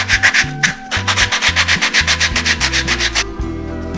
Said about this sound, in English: I'm using my sanding pads